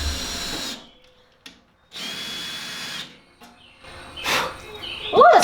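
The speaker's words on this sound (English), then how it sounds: "I drilled the holes." Power drill boring holes through a car's transmission tunnel, several bursts of whirring drilling separated by short pauses, close and fairly loud, with a brief clatter near the end.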